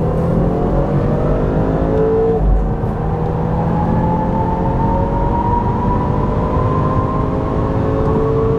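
A BMW 520i M Sport accelerates hard through a road tunnel, its engine droning loud and steady with rising harmonics, wind and tire roar echoing from the walls, and no talk.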